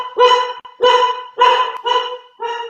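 A dog barks five times in a steady rhythm, loud and close, with short pauses between the barks.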